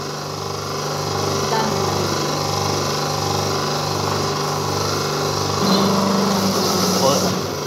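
A paper plate making machine runs with a steady mechanical hum and a regular, pulsing press cycle, while people talk nearby over the noise.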